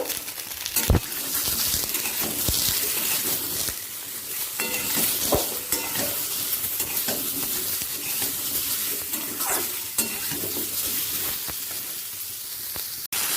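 Mixed vegetables with salt and turmeric being stirred in a pan for a light fish curry, a continuous sizzle and wet scraping with a few sharp clacks of the spoon against the pan.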